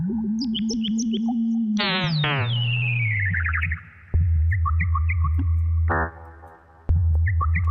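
Synthesized chirp tones imitating birds, built as sound design for a sample pack: bright, quick electronic tweets and sweeping pitch glides layered over a steady low drone, with brief dropouts and no voices.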